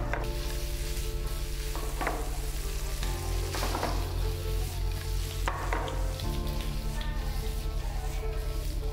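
Paneer cubes frying in a pan for paneer butter masala, a dense, continuous sizzle close up with intermittent crackles and stirring scrapes over a steady low hum, no voices.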